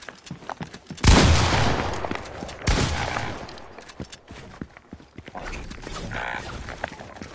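Video game sniper rifle fire: a sharp loud shot cracks out, followed a moment later by a second blast, with scattered clatter and game noise trailing off afterward.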